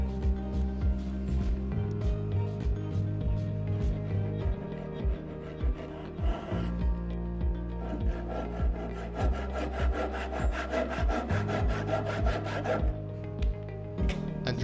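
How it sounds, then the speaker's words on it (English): A hand tool pares thin wood shavings from dovetail miters while a workbench is built, making repeated rhythmic rasping strokes, each a short scraping rub, close and clear over a low musical background with no speech. "Thin shavings are carefully taken off the marked areas, and the miters can be properly marked and cut."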